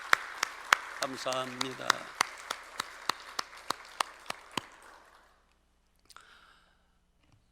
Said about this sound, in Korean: 우리 찬양 받으신 주님께 다시 한번 뜨거운 감사의 박수